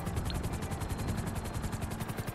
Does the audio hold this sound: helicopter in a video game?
yes